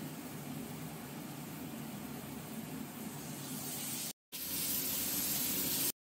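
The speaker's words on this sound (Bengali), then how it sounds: "তার আগে মশলার যে জলটা সেটা আগে দিয়ে দিচ্ছি।" Spiced water goes into masala frying in a pan for a tengra fish curry with potato and eggplant. A steady, even hiss and sizzle runs throughout, broken by one brief silent gap, with no voices.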